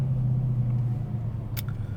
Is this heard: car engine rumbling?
yes